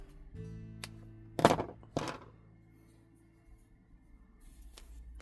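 Scissors snip through crochet yarn with two or three quick, close cuts, followed by soft handling noises and a quiet pause.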